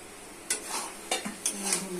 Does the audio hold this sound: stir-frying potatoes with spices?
yes